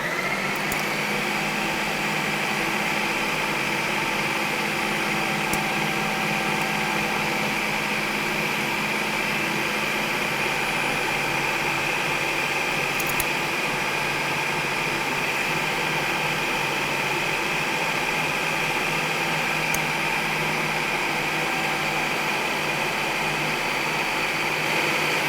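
A food processor runs continuously while mixing pie dough, a constant close whirring motor roar with no pauses, steady and loud throughout.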